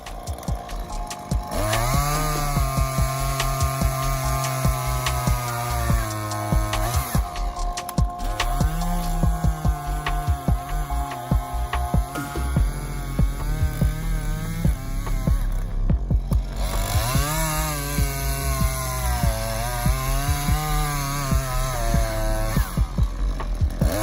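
A chainsaw runs loud and close, revving up and bogging down repeatedly as it cuts through a fallen tree's log, with brief idle pauses between cuts.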